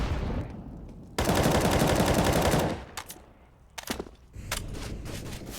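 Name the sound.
gunfire wall bangs in Counter-Strike video game on Overpass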